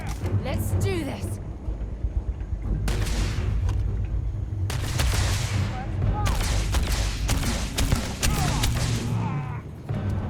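Heavy gunfire in a video game, bursts of shots and booming volleys coming in separate clusters with short pauses between, loud and close.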